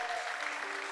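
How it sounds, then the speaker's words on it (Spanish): A congregation applauding inside a church service, a steady even wash of clapping lasting about a second at moderate level. "denle un aplauso al Señor"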